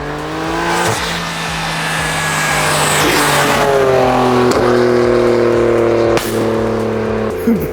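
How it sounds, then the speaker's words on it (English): A car with a single mid-pipe catback exhaust and a flame tune revs hard and loud nearby, engine pitch climbing through repeated pulls with sharp cracks and pops between them. "that single mid-pipe catback sounds super good"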